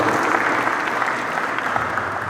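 Audience applause at a university professorial inauguration ceremony in Kupang, Indonesia, a dense, steady wash of many hands clapping at close range throughout.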